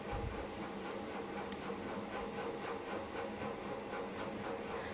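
Dishes are washed in a home kitchen under a running tap, a steady, close hiss of flowing water with faint rhythmic splashes and clinks throughout.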